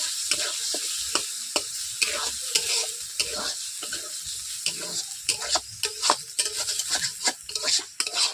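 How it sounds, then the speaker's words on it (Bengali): Eggs fry in hot oil in a pan, broken into small bits, with a bright continuous sizzle and rapid, repeated scraping strokes of a utensil stirring close up. "ডিমগুলোকে আমি ছোটো ছোটো ভিজার মতো ভেজে নিচ্ছি"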